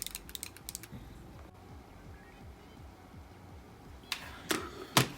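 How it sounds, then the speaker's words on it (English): Clicky buttons on a Neo Geo CD controller during a Samurai Shodown session, heard as a few close, sharp clicks near the start and a short cluster of louder taps toward the end over a steady low background hum. "with some clicky goodness on this controller"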